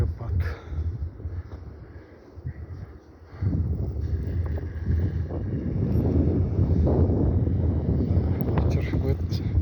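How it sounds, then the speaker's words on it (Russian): Wind gusting outdoors during heavy snowfall and a blizzard in a residential area of Karaganda, a steady buffeting rush against the microphone that grows stronger after a brief lull, with a person talking over it. "Ветер, да, так ветер в лицо дует."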